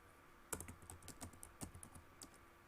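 Keys clacking on a computer keyboard during an MS Excel lesson, a quick cluster of close, crisp presses with short pauses between bursts, no voices present.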